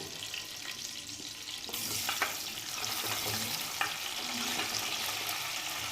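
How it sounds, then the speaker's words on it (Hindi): Onions fry in a pan over high heat, giving a steady close sizzle and crackle that swells after a couple of seconds, with a few scraping stirs mixed in. "तो यह हमने प्याज को डाल दिया है फ्राई होने के लिए।"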